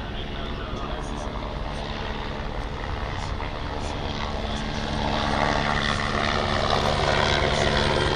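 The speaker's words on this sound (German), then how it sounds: "der Hubschrauber geht jetzt zur Landung" A firefighting helicopter's steady rotor drone and engine hum fill the air, growing louder as it comes in to land at a fire equipment demonstration, while someone speaks over it.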